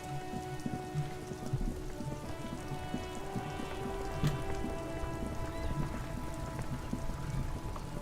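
Steady rain in the video game Disco Elysium patters with a soft hiss and scattered drips, with a faint low tone running under it and no talk over it.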